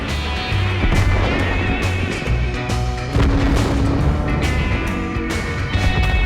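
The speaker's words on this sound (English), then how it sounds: "Allied fire demolishes the revealed enemies." Tank gunfire in the World of Tanks video game: several heavy booming shots punch through a continuous loud rumble of engines and battle noise, with no voices.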